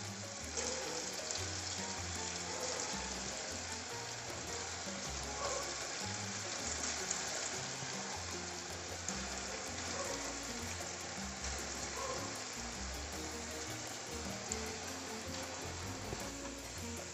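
Potato pieces fry crisp in a pan of hot oil for potato manchurian. A faint, continuous sizzle and crackle holds steady throughout, with no talking heard.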